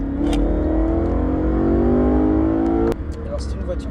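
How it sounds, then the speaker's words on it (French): A BMW M3 E92 with its 420-horsepower naturally aspirated V8 pulls hard under acceleration, a loud rising engine drone with dense harmonics that drops abruptly at a gear change, then carries on near and powerful. "on se fait plaisir avec les 420 chevaux, 400 newtons, V8 Atmo"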